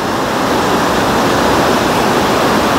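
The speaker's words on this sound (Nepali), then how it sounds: "खोलाको ठुलो आवाज आइरहेछ किनभने आज त्यहाँनिर बाढी पनि आइरहेछ" A river in flood roars loudly and steadily near a hydropower site in Dharan, a dense unbroken rush of water with no talk.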